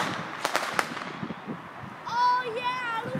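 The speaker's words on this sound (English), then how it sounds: "They're zipping fireworks!" On Bonfire Night, outdoor fireworks go off with a few sharp cracks early on. Then come several faint whistling zips, with people talking nearby.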